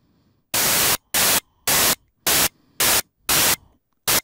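Noise source of a Vermona 14 synthesizer sounding as seven bursts of loud hissing white noise, each gated on and off in an uneven rhythm, with short near-silent gaps between them.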